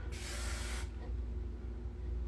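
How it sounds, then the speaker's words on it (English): A short hissing burst of texturizing hair spray, close and loud, lasting under a second before fading into steady background noise. "then I do this like texturizing spray."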